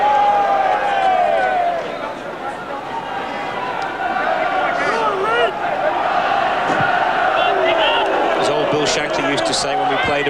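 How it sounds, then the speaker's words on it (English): A noisy football crowd fills a stadium during an Arsenal versus Standard Liège Cup Winners' Cup match, a constant loud roar of chanting and singing voices with a commentator talking over it. "It's going to be very difficult to get this crowd quiet here because they are very noisy."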